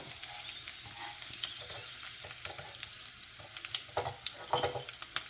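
Fried prawns crackle and sizzle in hot oil as they are scooped out of the pan, a steady frying hiss broken by irregular clinks and scrapes of the ladle, close and fairly quiet.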